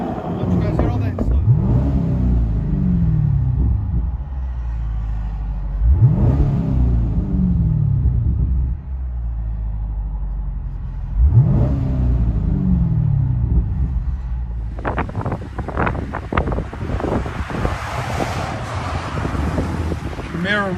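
A 2012 Chevy Camaro SS with a 6.2L V8 and Flowmaster Super 10 exhaust revs three times in deep, rumbling bursts, close and loud with wind noise on the microphone, followed by rougher crackling revs near the end.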